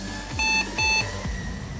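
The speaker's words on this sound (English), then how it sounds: "Does it make a beep noise at least?" An old IBM office computer fitted with a graphics card sounds two short, bright electronic beeps at power-on, close and clear over a low fan hum.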